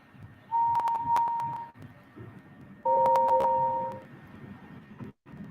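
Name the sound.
train whistle in Trainz video game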